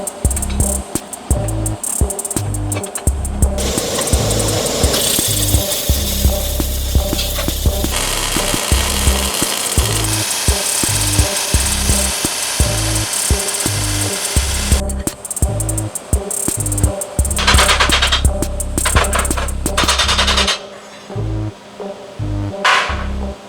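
Angle grinder grinding off steel tack welds during a fabrication fit-up, loud harsh continuous grinding in long bursts with brief pauses and changes in pitch as the disc bites and lifts from the metal.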